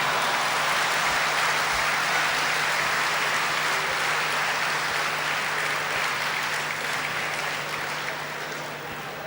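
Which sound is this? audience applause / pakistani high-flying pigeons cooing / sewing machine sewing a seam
audience applause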